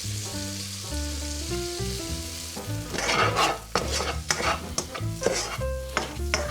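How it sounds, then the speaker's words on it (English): Garlic, spring onions and two bay leaves fry in a pan with dry sherry, a soft sizzle and intermittent stirring clatter sitting under steady background music that grows busier partway through. "Throw in my ingredients. The garlic, spring onions and the 2 bay leaves."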